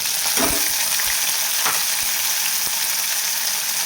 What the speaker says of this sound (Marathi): आता टाकते हिरवी मिरची